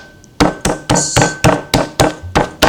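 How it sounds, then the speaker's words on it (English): Meat tenderizer pounding a raw chicken breast flat, about nine sharp, evenly spaced thuds in quick succession, close and loud with no talking. "Tenderize the chicken by gently hammering it down like such"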